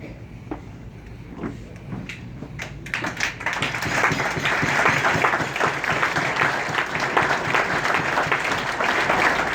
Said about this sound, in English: please give this illustrious group a warm round of applause, which you already did.